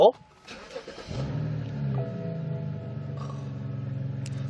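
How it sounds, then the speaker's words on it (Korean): A BMW 5 Series engine cranks and catches, then settles into a steady low idle that hums on; a brief voice is heard at the very start. "시동부터 한번 걸어볼게요"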